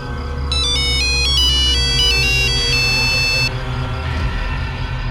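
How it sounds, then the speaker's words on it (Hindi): A phone rings with a bright, repeating electronic ringtone melody lasting about three seconds. A steady low room hum and background noise sit underneath, with no speech. "मैडम जी का फोन"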